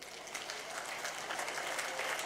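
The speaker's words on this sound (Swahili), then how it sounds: "So mtupigie makofi tafadhali" Faint audience applause at a polio vaccination campaign launch in Bungoma, Kenya, a brief steady patter of many hands heard from a distance.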